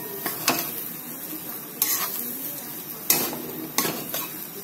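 Potato and sugar mixture cooking in a pan, heard as soft low sizzling with a few sharp utensil scrapes and clinks against the pan, close and alone without any talk.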